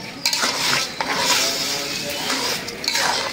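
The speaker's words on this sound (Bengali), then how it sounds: "শুকনো শুকনো করে কষাই নেব" Broken rice is stir-fried with ginger garlic paste in a pan: a spatula scrapes and stirs with occasional metallic clinks over a constant, close sizzle.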